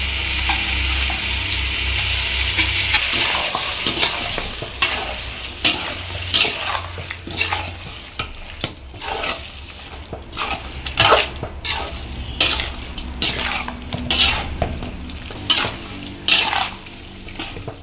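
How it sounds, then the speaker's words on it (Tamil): Chicken sautéing in a pan for chicken gravy, first a loud hiss and sizzle, then steady frying broken by repeated scraping and stirring strokes in a close, rhythmic pattern, with no voices. "சிக்கன் நல்லா வதங்கிட்டு இருக்கு ஃப்ரெண்ட்ஸ்."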